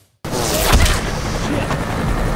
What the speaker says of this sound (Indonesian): The Twin yang menggunakan snipernya berhasil menembak Ian